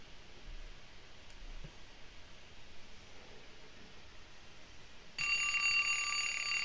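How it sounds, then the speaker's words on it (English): An alarm clock in a horror video game bursts into loud, bright electronic ringing near the end, cutting sharply through a steady background hiss. "Okay, the alarm just rang."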